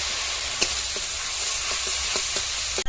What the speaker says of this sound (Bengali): রসুন খানিকক্ষণ এরকম লাল মতো করে কষে নিয়েছি।